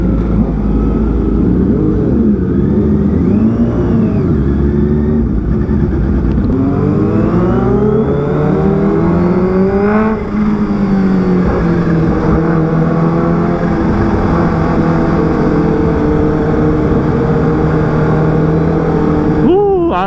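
Several big motorcycles ride together in a group, engines droning loud and steady with rising and falling revs as they cruise, heavy wind rush over the mic throughout.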